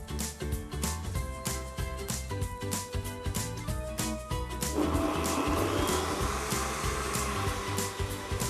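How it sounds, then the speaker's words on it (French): A kitchen blender purees cut pineapple and papaya pulp into juice, its dense whirring roar starting midway and running under steady rhythmic background music. "Bien coupé, nous allons le mettre dans le mixeur pour"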